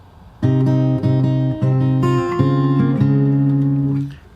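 Fingerstyle acoustic guitar plays a short phrase of a song, plucked notes and chords ringing clearly and close, with no talking, fading out at the end.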